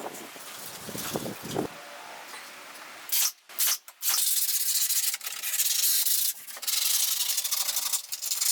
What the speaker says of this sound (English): For the opening window sills, I first sanded them